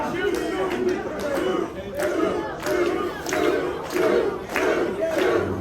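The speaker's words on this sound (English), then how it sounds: "you hear this Nashville crowd trying to will on Tyler Shoop" Nashville wrestling arena crowd at a CCW Music City Fight Night show, roaring and chanting in rhythmic surges to rally a wrestler fighting out of a chin lock, a dense continuous wall of voices swelling roughly every second.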